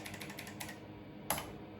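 Keystrokes on an Olivetti ANK 2463 keyboard, an 83-key PC keyboard of the IBM Model F type, a few clicky presses early on and one sharper close strike near the end, quiet room behind.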